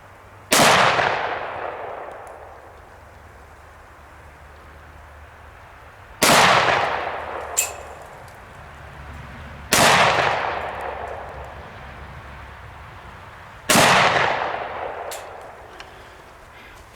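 Four loud, close gunshots strike homemade armor plates, each a sharp crack with a ringing metallic tail, spaced several seconds apart.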